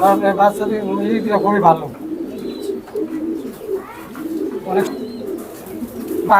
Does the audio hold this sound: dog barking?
no